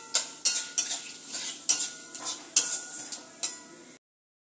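Dried red chillies, white cumin and a bay leaf cut in two sizzle in hot oil for tempering, while a metal spoon stirs and scrapes the pan in quick, repeated clinks close by.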